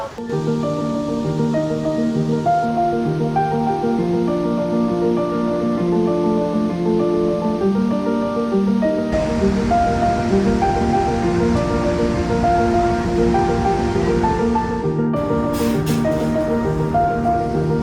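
Iguazú Falls' rushing water makes a steady, loud roar throughout, growing heavier partway through, with music playing over it.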